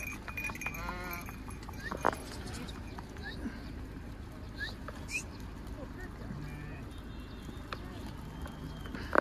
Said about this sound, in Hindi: अगर ये बकरियां और भेड़े निकल रही हैं तो आपको रुकना पड़ेगा